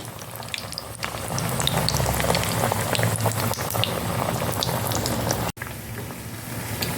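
Plantain flower vada deep-frying in oil gives off a constant, dense bubbling sizzle with fine crackles throughout, loud and close, with one brief dropout near the end.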